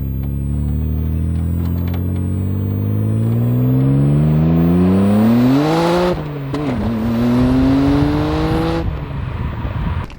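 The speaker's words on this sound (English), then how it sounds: "you're still gonna hear the exhaust from the car though" Nissan Skyline R32 GTR exhaust under way, a loud rising drone that climbs in pitch through the gears, dips briefly at a shift and pulls up again, heard from the rear of the car with no talk.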